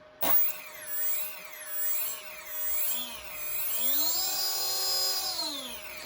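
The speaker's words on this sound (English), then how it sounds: "push the rudder back and forth like so, and we'll see which motor spools up" Twin electric motors on a radio-controlled plane rigged for differential thrust spool up and down with rudder input, a loud wavering whine rising and falling in pitch, climbing steadily near the end and heard alone up close.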